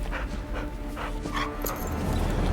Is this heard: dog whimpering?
yes